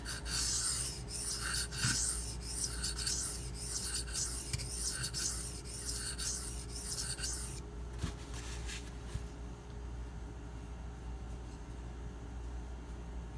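A Benchmade 9400 knife is stroked across a Shapton Glass sharpening stone in quick, regular rasping passes up close, then the strokes turn quieter and sparser near the end.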